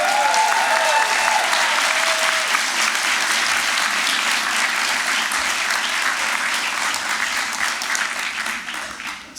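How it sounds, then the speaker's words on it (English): A convocation audience of graduates, family and friends at Royal Roads gives a loud, steady round of applause for the staff and faculty, dense clapping that holds for about nine seconds before tapering at the end. "give a round of applause to the amazing staff and faculty and your family and friends"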